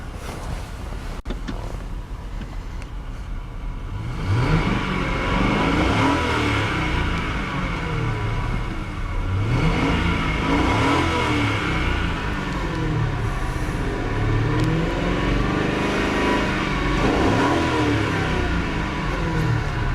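A 2003 Lincoln Town Car Cartier limousine's 4.6 modular V8 revs repeatedly in close, loud surges, several rising and falling sweeps over a steady idle rumble, with no talking.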